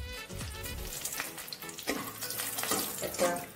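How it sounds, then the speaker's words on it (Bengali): Dry red chili, bay leaf and cardamom frying in hot oil in a pan for a Bengali prawn dopiyaza, a steady close sizzle that rises and falls with brief clatter from stirring. "তেলটা অলরেডি গরম আছে, আর একটু তেল মেশালাম আমি, একটা শুকনো লঙ্কা, একটা তেজপাতা"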